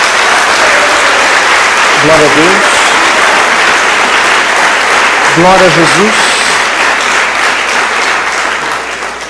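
A church congregation claps loudly and continuously, and voices call out over the dense applause.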